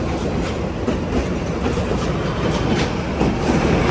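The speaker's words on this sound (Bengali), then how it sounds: "local train" A local passenger train rumbles past close by, a steady loud roar of wheels with faint clickety-clack on the rails throughout.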